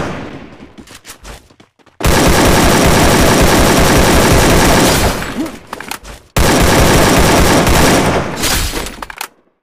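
Gunfire in the Free Fire video game during a solo-versus-squad match: loud, dense bursts of rapid automatic shots fill most of the clip, with a brief pause between two long volleys.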